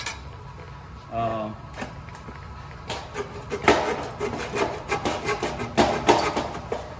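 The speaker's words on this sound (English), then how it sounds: "And I'll just trim this one out with a handsaw." A handsaw trims a piece of wood by hand, with quiet rubbing at first and then a run of rhythmic, close rasping strokes that grow louder over the last few seconds.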